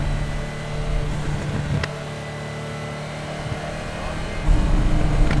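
A 1978 Ferrari 308 GTB with a 2.9-litre double-overhead-cam V8 drives down a country road, its engine a steady, smooth hum with road and wind noise that swells louder near the end.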